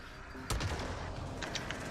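Rockets firing in a shooter video game, a sharp blast at once followed by a rapid rattling burst of shots and a few later thumps, heard alone without talk.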